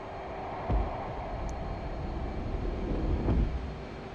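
An F/A-18 Hornet jet in the DCS flight simulator sits at takeoff, its engines giving a steady, broad roar with a couple of brief louder swells and no talk over it.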